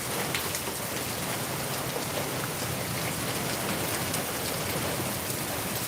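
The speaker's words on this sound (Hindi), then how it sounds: "देखिए बरसात की रफ्तार देखकर आपको खुद पता चल रहा होगा कितनी तेज बरसात हो रही है।" Heavy rain pours down steadily in Darbhanga, a dense, even hiss of drops hitting surfaces with no letup and no voices.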